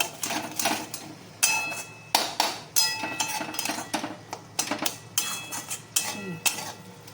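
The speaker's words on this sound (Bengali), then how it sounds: "এইবার এটা নাড়তে থাকবো" A spoon scraping and knocking in a pan as spiced jackfruit curry with potato, oil, salt and turmeric is stirred, with repeated metallic clinks and scrapes in an uneven rhythm, close and moderately loud, with no talking.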